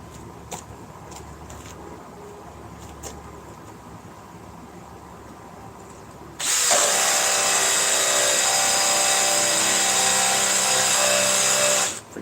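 A power drill running off an 8 amp power pack sits quiet for about six seconds, then starts up into a loud, steady whirring roar that holds for roughly six seconds before cutting off.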